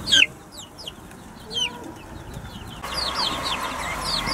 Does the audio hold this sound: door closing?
no